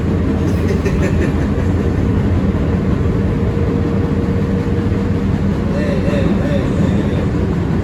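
An NYC Subway M train, an R160B Siemens car, approaches with a loud, steady rumble and rail roar, a faint squeal rising near the end, while people talk close by.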